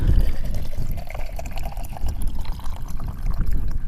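Water pouring steadily for several seconds to refill the water tank of a battery-powered pressure washer, a continuous splashing, gurgling flow close by with no talk over it.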